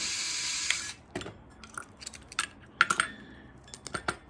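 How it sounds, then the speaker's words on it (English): Screws being taken out of an Uhlmann plug head, giving close, irregular metallic clicks and ratcheting ticks with small clinks of parts, moderately quiet, no speech. "Okay, so I have several screws I'm going to take out"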